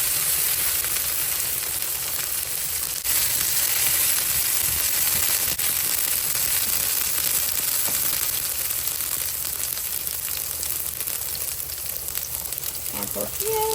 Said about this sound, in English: Next one, we're going to cook some tomato in with it.